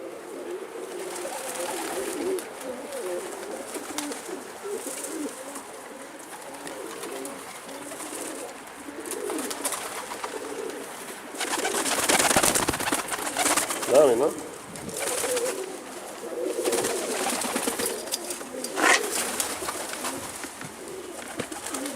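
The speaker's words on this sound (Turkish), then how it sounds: "Kuşlar da dışarıda." Pigeons coo softly and repeatedly, a steady low murmur of birds set outdoors, with rustling and occasional louder bursts of movement and faint background voices.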